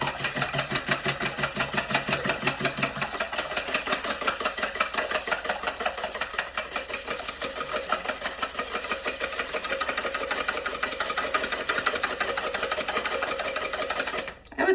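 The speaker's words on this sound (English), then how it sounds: "And we're gonna whisk it. I'm gonna whisk it and then I'm gonna show you the consistency." Hand whisking of Finnish lettu pancake batter in a bowl, a fast continuous rhythmic rattling and scraping that runs steadily for about fourteen seconds, close and fairly loud, with no talk.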